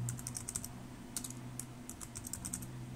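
Code is typed on a keyboard in quick, irregular bursts of light clicks, fairly quiet and close, with short pauses between runs of keystrokes and a low steady hum underneath.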